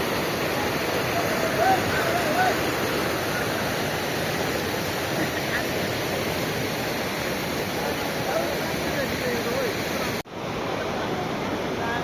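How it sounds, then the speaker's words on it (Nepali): A river rushes in a steady, unbroken wash close by, the current running loud and even the whole time, with one brief dropout near the end. "खोला चाहिँ यही हो गाइस।"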